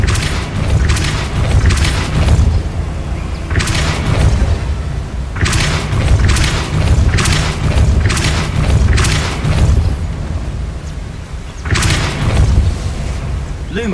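The Depulso force spell is cast in the Hogwarts Legacy video game, giving loud repeated booming blasts in irregular bursts with game sounds between them and some speech.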